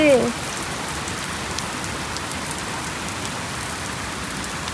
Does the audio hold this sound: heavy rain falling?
yes